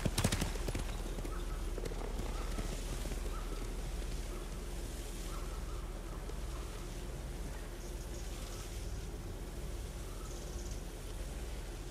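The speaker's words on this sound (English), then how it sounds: "Bastards scared off the horses." Horse hooves clop steadily in Ghost of Tsushima, a continuous galloping patter at moderate distance over a faint wash of ambient noise, with a sharper burst of hoofbeats at the start.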